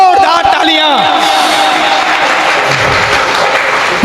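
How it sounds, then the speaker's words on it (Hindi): An audience at a Jain religious gathering breaks into loud, dense applause, many hands clapping continuously and close, with cheering voices mixed in at the start. "एक बार शरद जी के लिए जोरदार तालियां।"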